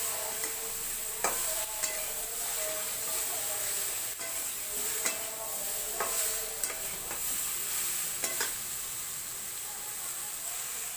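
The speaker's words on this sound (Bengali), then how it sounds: "এবার ভাজা ভাজা হয়ে এসছে, আমি শাকগুলো দিয়ে দেবো।" Mixed vegetables for a spinach curry frying in a pan, a constant sizzle under intermittent sharp scrapes and clinks of a spoon stirring, no talking.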